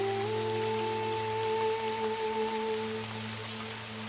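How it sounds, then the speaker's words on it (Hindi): Steady rain patters down throughout, accompanied by a constant low tonal hum in the background; no one speaks. "बारिश अभी भी रुक रुक कर हो रही थी।"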